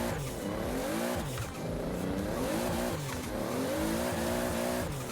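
A drift car in a driving video game, played on a Logitech G920 wheel, revs high with its wheels spinning in fifth gear, the engine tone rising and falling in repeated loud sweeps with tire squeal, and no talk.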